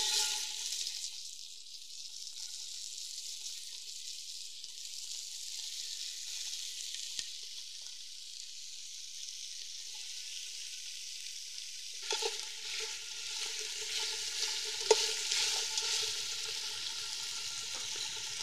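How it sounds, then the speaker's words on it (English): Meat seared in a small amount of hot fat in a heavy pan gives a steady, hissing sizzle that swells louder and busier near the end. "Heat a small amount of fat in a heavy pan and sear the meat on all sides"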